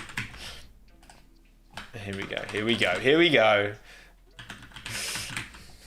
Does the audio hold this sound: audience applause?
no